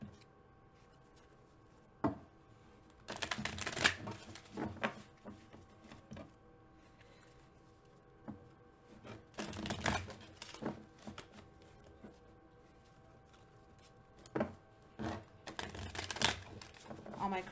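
Tarot cards are shuffled by hand in several short riffling bursts, close and crisp, separated by quiet pauses with faint background hum.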